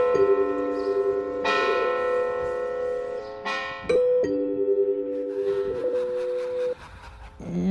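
A clock striking chimes at midnight: steady, ringing bell tones sound in a slow sequence of separate strikes, each sustained and overlapping as it fades, loud and clear with no voices.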